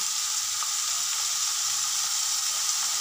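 Paneer fries in a hot pan with a steady, loud, even sizzle that hisses on without a break from start to finish.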